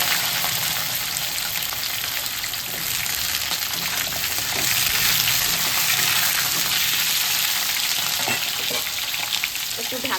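Potatoes and vegetable stalks frying in a pan, a loud, steady hiss and sizzle with some stirring scrapes, close up and continuous throughout.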